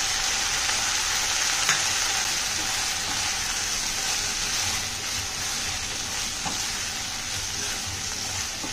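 A dish with plenty of grated fresh coconut simmering on a very low gas flame, giving a steady, even sizzle and soft hiss close by, with a couple of faint clicks and no talking.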